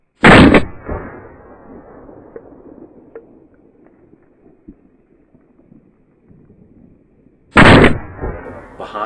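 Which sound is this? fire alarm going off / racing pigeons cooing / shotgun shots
shotgun shots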